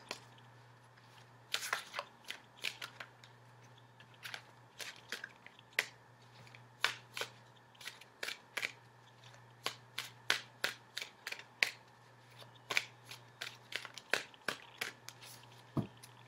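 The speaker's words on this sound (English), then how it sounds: "I'll cut the cards." Tarot cards cut and shuffled for a 21-card spread: soft, scattered snaps and riffles of card stock, close and quiet over a steady low hum, irregular at first and then coming in quicker bursts.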